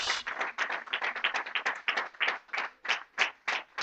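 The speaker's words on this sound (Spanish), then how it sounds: "Dele un aplauso al Señor" A church congregation claps together in fairly even, rhythmic bursts, a moderately loud and close patter of many hands with no talking over it.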